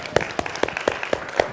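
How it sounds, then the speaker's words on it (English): An audience claps, heard as scattered, irregular hand claps of moderate loudness over a low room murmur. "can you all stand up and applaud yourselves?"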